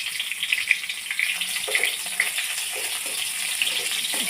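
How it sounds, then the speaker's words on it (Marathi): Chopped onion sautés in a pan with garlic cloves, a steady close sizzle and crackle of frying oil with soft stirring noises, no talk. "कांदा परतून घ्यायचा आहे"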